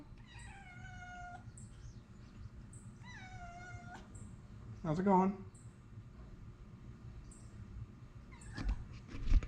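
A cat meows a few times with drawn-out, falling cries, interspersed with a person speaking briefly and some clattering noises nearby.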